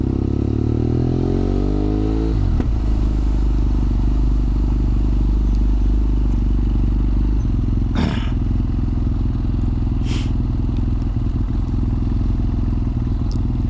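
A BMW F800R fitted with a quickshifter rides through city traffic, its engine droning loud and constant as it revs down through the gears. Wind roars throughout, with a few brief scrapes and clatters and no talking.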